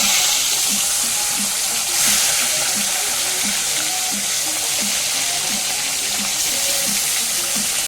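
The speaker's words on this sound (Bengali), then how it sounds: "তারপর গরম তেলের মধ্যে মাছের পিসগুলো দিয়ে লাল লাল করে ভেজে নিচ্ছি।" Fish pieces frying in hot oil in a pan, a loud, steady crackling sizzle close up with a rapid bubbling pulse running throughout.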